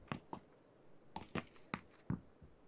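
Footsteps on carpet in the PUBG video game, on the Miramar map, a string of soft, muffled thuds at an uneven walking pace, fairly faint and unaccompanied by voices.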